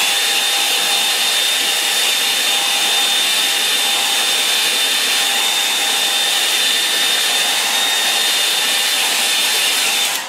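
A hair dryer blows on a wet watercolour painting, a loud, steady, continuous whooshing roar with a faint whine, running alone throughout.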